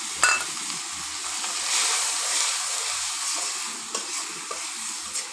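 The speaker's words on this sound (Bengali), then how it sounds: "মশলাটাকে ভালো করে ভেজে নেব" Ground coriander, vegetables, sweet cumin, turmeric, salt and chili frying together in hot oil in a pan for a fish curry: a close, steady sizzle with scraping stir strokes and a few sharp clinks, no voices.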